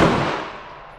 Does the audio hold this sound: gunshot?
yes